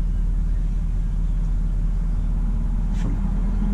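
A 2017 Ford F-250 Power Stroke diesel pickup engine rumbles steadily at low pitch, heard from inside while driving, with a brief higher squeak near the end.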